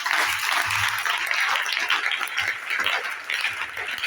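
A church congregation at a Sunday service applauds, with dense sustained clapping from many hands that fills the room and sounds loud, continuous and close.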